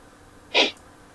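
A single short sneeze, close and clear, cutting through a quiet room background with no talking.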